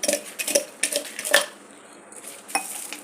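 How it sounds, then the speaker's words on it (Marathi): Roasted peanuts are pressed and crushed under a drinking glass to rub off their skins: a series of separate knocks and scrapes of glass against a dish, close by and with uneven pauses, no talking. "मी एका ग्लासच्या साहाय्याने याला असे सालं काढून घेते."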